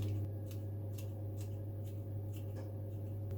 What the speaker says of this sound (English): I'm simply going to use some scissors and snip the basil into the passata.